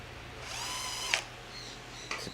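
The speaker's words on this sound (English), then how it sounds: "And I'll just use the drill very gently" A power drill turns gently to tighten a Phillips screw while servos are installed on a Hangar 9 Extra 330SC model airplane. One short, rising motor whir runs for about a second, followed by a faint click and a second brief burst.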